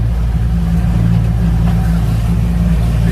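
A new boat's outboard motors on Francois Lake, British Columbia, with a cooling fault, giving a loud, steady low engine drone held close and unbroken throughout.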